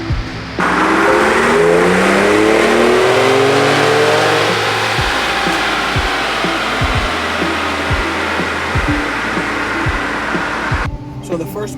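A stock 2019 Ford Raptor Gen 2 truck on a stage 1 tune and 91 octane fuel roars through a full-throttle dyno pull, its engine note climbing steadily for about ten seconds before cutting off sharply, loud and close.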